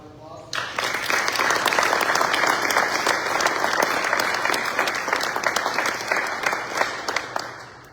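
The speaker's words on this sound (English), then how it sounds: "Let's give them another round of applause." An audience applauds an honor guard after its presentation of colors and flag ceremony at a retirement event: loud, steady clapping from a crowd begins abruptly and rolls on evenly, fading slightly toward the end.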